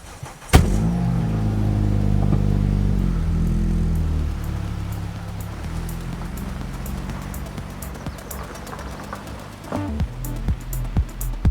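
A little Kia car drives along a road with a steady, close engine drone and tire rumble, joined by a light ticking patter and a few sharper knocks near the end.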